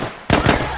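Gunfire in Minecraft: a sudden loud burst of rapid shots breaks in after a quiet moment and continues as a dense rattle to the end.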